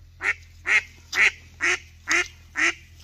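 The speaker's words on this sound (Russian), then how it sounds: "Приплыла и крякает тут." A duck quacking on a pond while carp fishing, seven evenly spaced loud quacks in steady rhythm close by, with faint low background hum.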